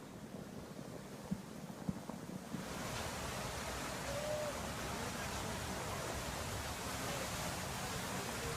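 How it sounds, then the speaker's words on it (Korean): Flash flood water rushes through a dry desert like a waterfall, a steady broadband roar that swells after a few seconds and holds loud and continuous to the end, with no voices. "메마른 땅에 폭포같이 물이 흐르고 있습니다."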